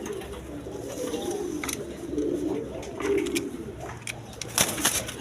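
A pair of Lahori pigeons at a pigeon seller's, with soft low cooing running steadily beneath a busy background hum, a few brief brighter bursts near the end.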